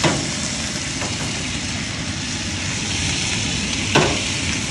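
Food sizzling steadily in a pan on a Coleman 426D three-burner propane camp stove, a continuous close frying hiss with a brief sharper clink near the end, no talking.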